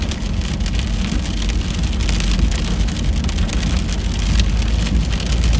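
Steady, heavy rain pours down in a dense, loud hiss that fills the whole stretch without pause, with a faint low rumble beneath and no voices.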